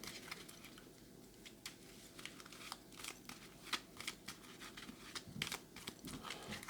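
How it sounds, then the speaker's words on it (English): A small deck of ten paper event cards for a print-and-play solitaire board game being shuffled: quiet, close crinkling and soft irregular card flicks and taps. "so we shuffle the 10 again."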